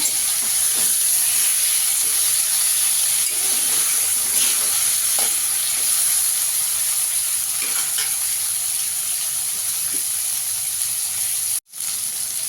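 Pieces of hilsa fry in hot oil with a constant close sizzle and light crackle, holding steady with faint bubbling and a sudden brief dropout near the end; no speech.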